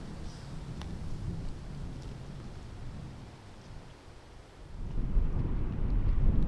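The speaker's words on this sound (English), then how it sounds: "It's crazy wind" Strong headwind gusting across an outdoor disc golf course in Andalucia, a loud continuous low rumble of wind buffeting the microphone that eases briefly and then surges back stronger.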